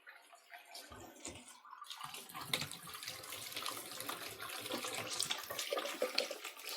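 Hot water running from a tap during a flow-rate check is a faint, splashy trickle that fills in after a couple of seconds and continues steadily.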